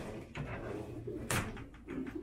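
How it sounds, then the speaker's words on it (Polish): Breeding-loft pigeons coo in low rolling phrases close by, with a brief sharp clatter partway through and the cooing carrying on steadily to the end. "I tutaj są gołębie i te mamki samce i rozpłodowe samce."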